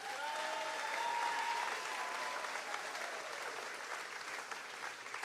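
A large outdoor crowd at the Fancy Farm Picnic in Kentucky breaks into loud, sustained clapping mixed with a few cheers and whistles, the applause thinning gradually over several seconds.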